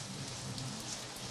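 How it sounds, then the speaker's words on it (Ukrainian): Steady rain falling in a city, a dense continuous hiss of drops on surfaces with no voices, even and moderately loud throughout. "Якби не падав дощ"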